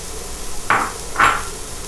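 Carrots and celery go into a hot skillet with olive oil, landing in two quick clattering hits about half a second apart, close and fairly loud over a low background hiss.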